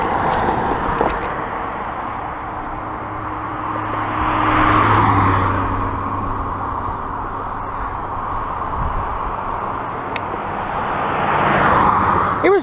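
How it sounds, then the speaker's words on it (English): Cars pass by on a city road at around 3 a.m. near a bar district, engines swelling and fading as each vehicle rolls past close by, with steady traffic rumble between passes and no talking. "After these cars pass."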